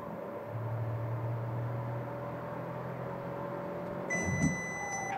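A Volkswagen Nivus Highline's collision warning chimes loudly inside the cabin, a bright series of electronic beeps over steady road and engine rumble.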